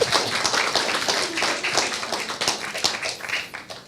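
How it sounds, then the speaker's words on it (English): Audience at a talk show clapping in a steady, moderately loud round of applause that continues throughout, with a faint murmur of voices mixed in. "Let's give him a round of applause."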